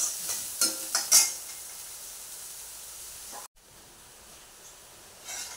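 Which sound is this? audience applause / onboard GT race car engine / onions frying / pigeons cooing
onions frying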